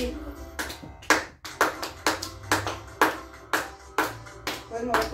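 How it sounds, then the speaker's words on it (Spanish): Hands clap in a steady, regular beat for roughly a dozen claps along with a children's greeting song, sung voices and music underneath. "Vamos a aplaudir."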